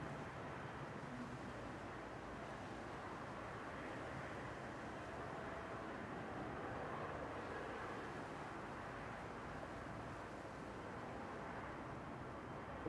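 An Emirates airliner moving at Manchester Airport, a faint, distant, steady jet engine rumble and whine that holds evenly throughout, with no voices.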